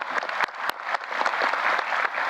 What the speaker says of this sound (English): Please join me in a hearty round of applause for our board.